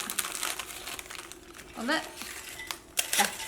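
Short crinkly crunching bursts as biscuits are pressed and broken by hand, close up, with a voice talking alongside.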